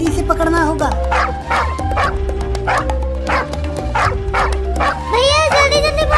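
Cartoon dog barking repeatedly in a steady rhythm during a chase, with background music and animated voices talking over it.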